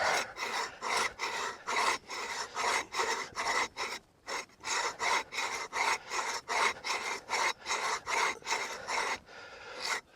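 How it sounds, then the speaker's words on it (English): Hand saw cutting through tree branches outdoors, with strong rhythmic rasping back-and-forth strokes, about two per second, close and loud, with a brief pause midway. "Seems to be cutting pretty darn good though. Filling my jacket with sawdust."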